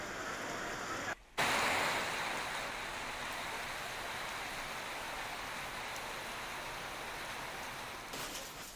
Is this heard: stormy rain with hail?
yes